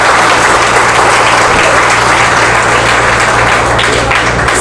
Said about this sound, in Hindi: सर के लिए ताली नहीं बजाओगे?